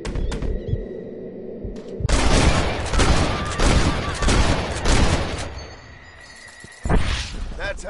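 Rapid gunshots crack in a Red Dead Redemption shooting contest, with a few isolated shots and then a dense volley of loud, close reports over several seconds, followed by one more burst.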